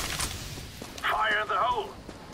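Flashbang and fire grenade being thrown during a round of CS:GO, with short thumps and bursts under a player's steady voice and an electronic game sound in the middle.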